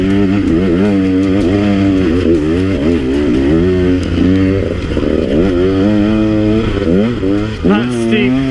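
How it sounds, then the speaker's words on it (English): A KTM 150 XC-W two-stroke dirt bike engine revs hard in low gear while climbing a steep, rocky, technical trail, its loud buzzing pitch rising and falling continuously as the rider works the throttle up the slope. "You got to be down in first or second gear, and you got to be singing that motor out."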